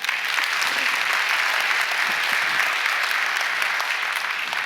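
A church congregation claps in a dense, steady round of applause, sustained and fairly loud from start to finish with no voices standing out.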